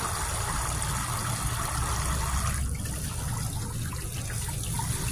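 Water trickles steadily from a small garden fountain in a container, a soft continuous babble that thins slightly partway through, no voices.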